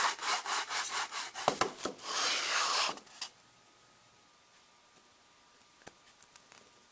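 A handsaw cuts through a small wooden piece for a golden icosahedron model, making about three seconds of steady, rasping back-and-forth strokes up close, then stopping. A few faint taps and knocks follow in near silence.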